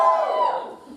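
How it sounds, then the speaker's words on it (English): Comedy club audience in Berlin cheering and whooping on cue during a stand-up set, a loud burst of crowd voices that fades over about a second. "please give me a cheer if you do use Instagram"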